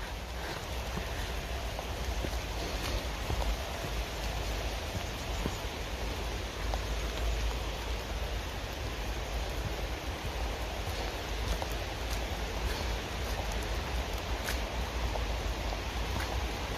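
Steady outdoor rain falls continuously on grass and foliage, a dense, even hiss holding at constant loudness throughout with no voices.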